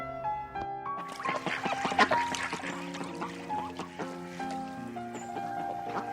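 Several ducks quack in a loose, overlapping chorus on a city park lake, some calls near and loud, others fainter, with a watery outdoor background.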